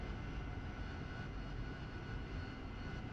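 A Harrier jet engine idles in the DCS flight simulator with a steady, broadband roar and whine that holds level throughout, fairly quiet and with no speech.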